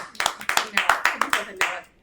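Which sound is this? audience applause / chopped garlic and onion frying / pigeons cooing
audience applause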